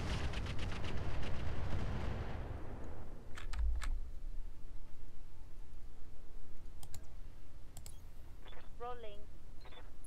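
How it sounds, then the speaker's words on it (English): Mech weapons fire in the Roguetech BattleTech video game opens with a loud, rumbling barrage that fades out over about three seconds. Scattered sharp clicks and brief electronic chirps follow in a quieter stretch. "let's just fire on him"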